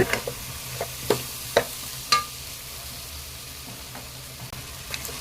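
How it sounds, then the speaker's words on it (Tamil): Eggplant sautés in a pan with sambar powder under a soft, steady sizzle, punctuated by a few sharp scrapes and taps as a spoon stirs the vegetables. "இப்போ இதையும் லேசாக ஒரு வதக்கி வதக்கிட்டு நம்ம தண்ணி ஆட் பண்ணிக்கலாங்க"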